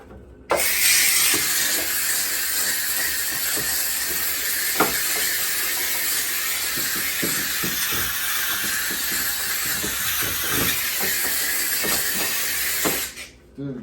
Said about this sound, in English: my steamer is doing the steaming